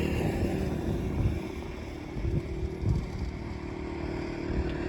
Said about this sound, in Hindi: अज हवा जी है ना बहुत ज़्यादा तेज़ है